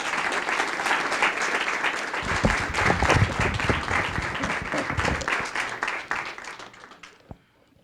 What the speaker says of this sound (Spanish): Dele un aplauso al Rey de Gloria.